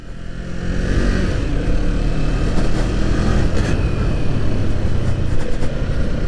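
A Kawasaki Z street-fighter motorcycle engine accelerates on a winding mountain road, a loud, sustained rising drone with a steady growl close by, no speech over it.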